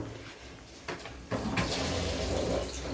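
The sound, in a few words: washing dishes under running tap water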